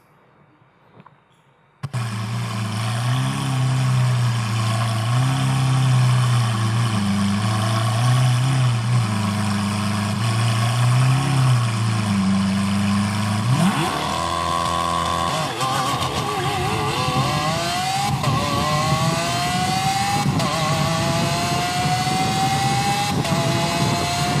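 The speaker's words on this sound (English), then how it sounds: "a video of a drag race between a family SUV, a 7-seater vehicle, against one of the most iconic sports cars in the world, the Lamborghini Aventador" A family seven-seat SUV drag races a Lamborghini Aventador, heavy engine drone throughout, then a sharp rise into rapid revving and climbing whines as the cars accelerate, loud and continuous.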